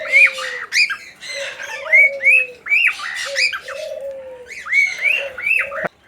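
Parrots in a large walk-in aviary, including conures, eclectus and Amazons, give loud repeated squawks and honking calls in an uneven rhythm, close by with no talking.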